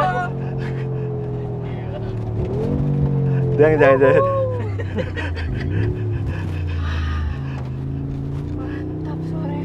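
Mercedes G63 with a 4.0 V8 twin-turbo engine in Sport Plus mode revving once, a deep, loud rising roar that falls back to idle. People talk over and around it.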